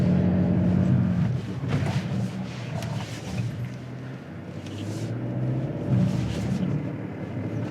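A 2025 Hyundai Santa Cruz engine held at full throttle on an off-road climb, giving a steady loud roar with wind and rumble that swells and eases.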